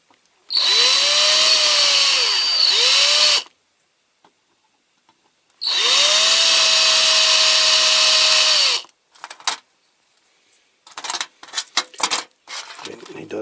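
A power drill with a bigger bit bores into a die-cast Corgi Cooper-Maserati toy car in two sustained whining bursts of about three seconds each, followed by scattered clicks and scrapes of metal handling.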